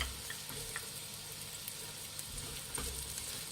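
Onions frying in hot oil for hotel-style egg fried rice give a steady, even sizzle with faint crackles and occasional stirring clicks.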